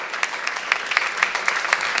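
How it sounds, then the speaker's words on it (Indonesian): A church congregation at a Sunday Pentecostal service in Gorontalo claps together, close and fairly loud, with individual hand strikes landing in a loose, lively rhythm. "Waktu engkau sedang tepuk tangan"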